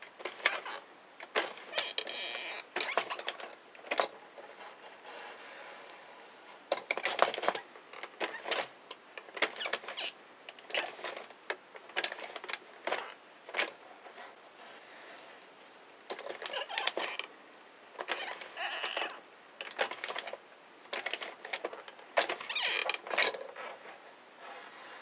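An Addi or Sentro 22-pin circular knitting machine casting off stitches one at a time, giving rapid bursts of plastic clicking and rattling that come in uneven clusters with short pauses, close by and moderately loud, with no talk.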